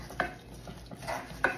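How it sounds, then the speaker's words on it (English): Boiling pecan pie filling being stirred in a pot, a few faint spoon scrapes and clinks against the pot over a soft bubbling simmer. "But we have to stir it constantly"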